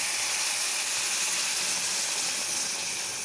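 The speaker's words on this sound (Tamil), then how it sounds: "ஆனால் இந்த தண்ணி ஊற்றும் பொழுது பார்த்து ஊற்றணும்ப்பா, மெதுவாக ஊற்றணும்." Hot water is poured into roasted semolina in a pan while making upma. The result is a loud, steady hiss and sizzle that holds without a break for about three seconds.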